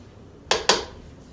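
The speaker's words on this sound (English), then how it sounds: "Let me take my spatula and just clean off the sides." Spatula scraping the sides of a mixing bowl of egg-free chocolate chip cookie dough, two quick close strokes in a quiet room.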